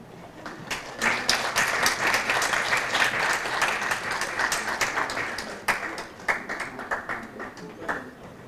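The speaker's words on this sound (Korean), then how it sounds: "환영의 박수 부탁드리겠습니다." Sustained audience applause fills a forum hall as honored guests enter, dense steady clapping throughout with a brief dip midway before continuing, no talking over it.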